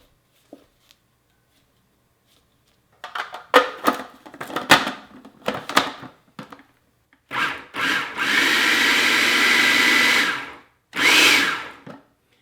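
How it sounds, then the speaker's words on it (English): A stand mixer on low speed works shortbread cookie dough, with several short whirring bursts that stop and start, then a longer steady run of grinding motor noise and a final brief burst, close and fairly loud. "Turn it on low and we're going to mix this until it develops, it'll look like damp sand."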